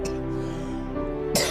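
A person coughs in two short, sharp bursts, one at the start and another near the end, in a quiet indoor setting.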